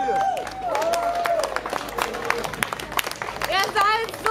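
Crowd at a live rock concert clapping and cheering between songs, with whistles, shouts and voices over the applause.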